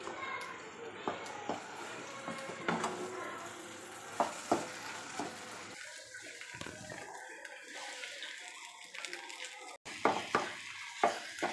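A spoon scrapes and stirs masala potato and carrot filling in a sizzling pan, with soft clinks and frying hiss close by while a person talks.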